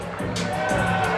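Crowd noise at an HBCU event rises into a steady roar of cheering that fills the whole short moment, loud and close, with voices blended into the din.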